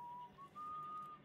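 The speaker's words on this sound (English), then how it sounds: "Me whistling because I'm so inconspicuous." A person whistles a short, faint tune of thin sustained notes with brief gaps, heard alone during PC gameplay of Dishonored: Death of the Outsider.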